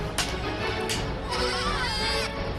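Goats bleat repeatedly in a riverside village, several short calls spread through the clip over steady outdoor background noise.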